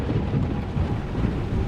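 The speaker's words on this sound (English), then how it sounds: "Level 3 thunderstorm." Thunderstorm with rain and damaging wind in the video game Hitchhiker, a steady low rumbling roar of thunder over dense rainfall, continuous and fairly loud with no voices.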